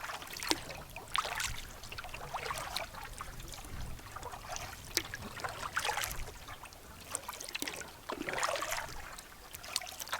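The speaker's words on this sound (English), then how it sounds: "Sounds like there's a little stream over there coming in." A small stream trickles into a lake in Maine. Soft, faint splashing and dribbling water comes and goes in the distance, with light paddle-like splashes nearby and no talk.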